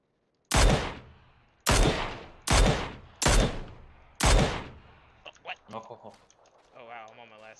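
Five loud, evenly spaced video game gunshots ring out alone, each with a sharp crack and a lingering tail, followed by softer clicking and mechanical handling sounds.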